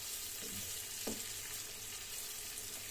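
Eggplant and sweet pepper sauté in oil for a winter lecho, giving a steady soft sizzle throughout with a brief stir or clink near the middle; no talking.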